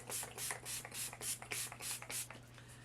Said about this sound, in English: I'm gonna go ahead and give it a spray.